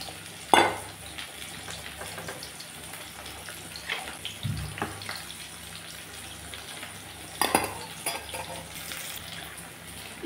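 Vegetables go into a pan of mung dal and fry, with a low, steady sizzle under scattered scraping and clanking of a spoon against the pan, plus a couple of louder knocks and splashes.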